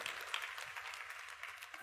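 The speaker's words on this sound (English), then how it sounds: "thank you for the applause" An audience gives a short round of applause, a faint, dense patter of many hands clapping with no clear break.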